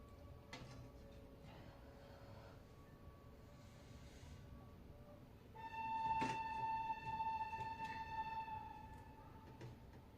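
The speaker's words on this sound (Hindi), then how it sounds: "हमारे घर के पास ना रेलवे स्टेशन है, आपको उसकी आवाज आ रही है ये।" A railway station near a house gives off a sustained tonal hum and whine that swells midway, with faint clanks and knocks, heard from a distance over low ambient noise.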